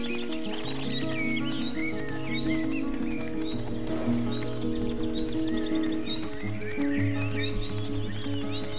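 Horse hooves clip-clop steadily with repeated neighs and whinnies during a ride through countryside in the game Mein Pferd, over a continuous layer of background game music.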